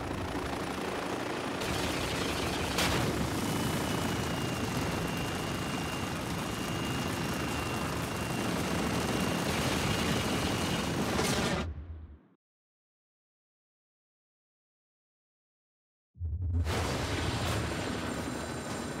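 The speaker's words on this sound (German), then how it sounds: "Und wir müssen Helikopter ausschalten." Helicopters in the video game Spec Ops: The Line drone loudly with rotor and engine noise for about twelve seconds, cut by a gap of silence before the whirring resumes.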